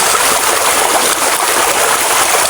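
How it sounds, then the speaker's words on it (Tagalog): River water rushes past close by in a loud, constant broadband flow with no voices. "So, sundan natin tong ilog na to."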